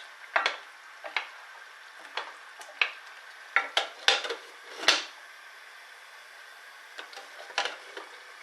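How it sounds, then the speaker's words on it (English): A spoon scrapes and taps around a pan of chicken tomato pasta, a dozen short clinks and scrapes spaced irregularly, close and clear with no talking. "stir this every so often, just making sure that it's not sticking to the sides"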